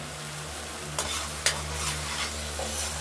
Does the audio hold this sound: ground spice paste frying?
yes